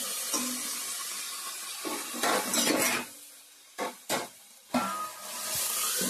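Cauliflower fries in a pan as it is stirred, a soft sizzle broken by several sharp scraping clanks of the spoon against the metal.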